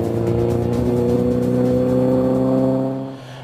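A rally car racing past kiwi fruit orchards, its engine droning loud and close with a steady high rev that fades as it moves away at the end.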